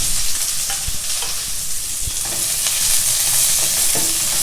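Sliced onion, green chilli, curry leaves and hing sauté in a pan, a loud, close sizzle broken by several sharp knocks and scrapes of a spoon against the pan, with no talking.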